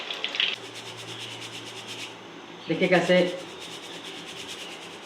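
Crispy fried moong dal is stirred in a pan, giving a soft, dry rattling scrape that rises briefly in the middle of the clip, with a voice talking over it.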